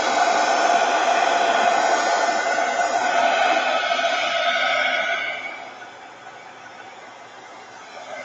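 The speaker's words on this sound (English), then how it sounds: "All right, heat gun." A heat gun blows steadily and loudly while drying craft journal pages, a continuous whooshing hiss that drops to a lower, quieter setting partway through before running on.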